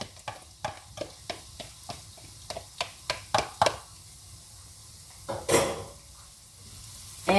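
Red onion frying in a pan with cloves, cardamom, cinnamon stick and green chili, a soft steady sizzle broken by a run of sharp clacks of stirring and a louder scrape of utensil on pan.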